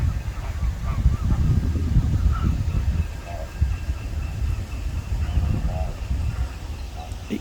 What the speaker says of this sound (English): The pretty pink flamingos in their pool here.